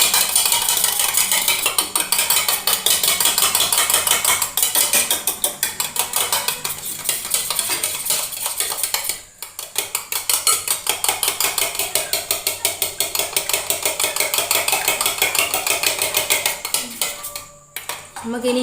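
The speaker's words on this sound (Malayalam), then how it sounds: "ഇനി നമുക്കിത് നന്നായിട്ടൊന്ന് മിക്സ് ചെയ്തെടുക്കാം" Two eggs whisked in a bowl, a fast, continuous metallic clatter of utensil against the dish, loud and close, with brief pauses near the end.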